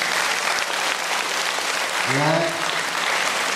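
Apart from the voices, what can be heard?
audience applause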